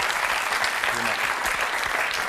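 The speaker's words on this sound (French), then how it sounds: "On peut l'applaudir aussi." A studio audience applauds on a French talk show, a steady wash of clapping held at even loudness through the short stretch, with a faint voice under it.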